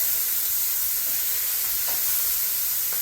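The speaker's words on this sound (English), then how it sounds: "I'll brown these off and then we'll continue. These pork chops are looking fantastic." Pork chops searing in a hot pan give off a steady, even sizzle and hiss that holds level throughout, with faint spatters and no talking.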